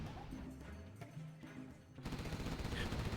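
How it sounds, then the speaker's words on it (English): Rapid mechanical gunfire from Gatling cannons in a Command & Conquer real-time strategy match, a dense chattering burst that swells louder after the midpoint, mixed with game battle noise. "Gatling cannons doing their work, doing their damage on the supply"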